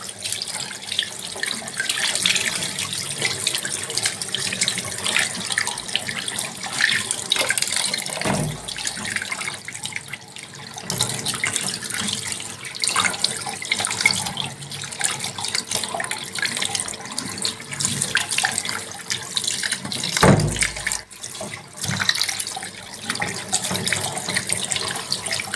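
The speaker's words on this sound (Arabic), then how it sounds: "نغسلها بالمية تاني." Pieces of beef head meat are washed under a running tap, the water gushing steadily and close for the whole stretch, with splashing and handling noises and a couple of brief interruptions in the flow.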